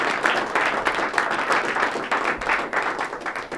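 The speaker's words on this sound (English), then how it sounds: "So I think that deserves a round of applause" Audience applause at an annual community access television meeting in Salem, steady broadband clapping from a roomful of people lasting a few seconds, no talk over it.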